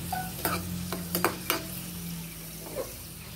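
Perandai leaves roasting in ghee in a pan, a low steady sizzle broken by several quick spatula scrapes and taps, close by with no voices.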